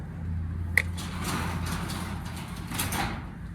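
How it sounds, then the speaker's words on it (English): A sliding door in a workshop where a 1983 Chevy G20 cowl hood gets primer and body work rolls shut with a sharp knock at the start, then a rumbling slide and a faint second thud near the end. "Close this door."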